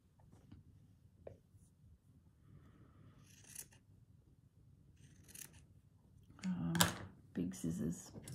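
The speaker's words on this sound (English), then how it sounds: "Big scissors." Big scissors snip through old linen fabric in a few quiet, close cuts, with soft rustling and a faint voice murmuring near the end.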